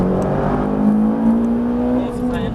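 A car accelerates hard on a race circuit during a track ride, its engine note climbing steadily and loud up close, with a voice talking over it.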